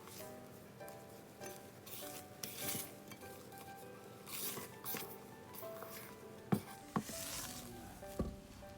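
Sifted flour is stirred into longan cake batter in a bowl, giving soft scraping swishes with occasional sharp clinks of the utensil against the bowl, close up and without talk.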